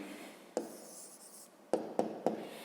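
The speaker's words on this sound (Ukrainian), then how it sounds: "Ну, а тепер пишемо відповідь." A pen scratches out a handwritten answer on paper, close and quiet, with a sustained stroke followed by several short, sharp marks.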